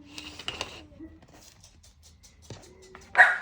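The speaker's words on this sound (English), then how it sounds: "It never fails when I start to do something, they decide that's a time to bark." Several pet dogs bark and yip indoors in short bursts, with a louder sharp bark near the end, amid faint background sounds in a home craft setting.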